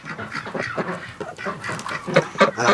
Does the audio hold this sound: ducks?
yes